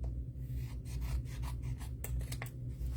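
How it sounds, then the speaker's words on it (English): Close, quiet rasping and snipping as excess paper is trimmed off the ends of a handmade card, several short strokes in quick succession over a low steady hum. "go ahead and trim your little extra off each end"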